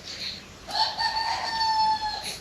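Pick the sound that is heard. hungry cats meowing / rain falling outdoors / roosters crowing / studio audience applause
roosters crowing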